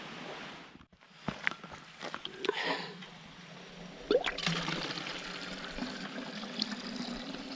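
Water trickles and splashes as bottles are topped off on the Zaleski South Loop hiking trail, a steady liquid pour with a few clunks and shuffling movements nearby.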